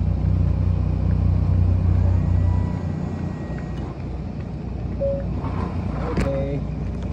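A vehicle drives up the loading ramp onto the ship MV Juliana, its low engine rumble heavy at first, then easing to a quieter drone with a few faint tonal sounds near the end.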